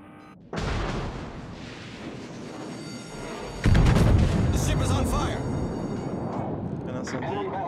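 Naval shells fire in World of Warships: a heavy boom opens, followed by a second, louder blast with a rolling low rumble that lingers under the continuing game sounds.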